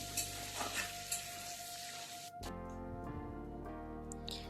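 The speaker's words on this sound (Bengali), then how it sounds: "দিয়ে দিচ্ছি গোটা জিরে এবং শুকনো লঙ্কা ফোড়ন। ফোড়নটাকে একটু ভেজে নেব।" Whole cumin and dried chili sizzle and fry steadily in hot oil during a Bengali prawn and banana-flower dish, a continuous crackling hiss close by that shifts partway through as the spices settle.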